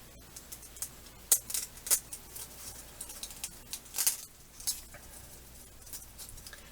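A blade cuts a big U-shaped mouth into a Snowgie prop with scattered scratchy scrapes and small crisp snips, close and irregular, with no talking.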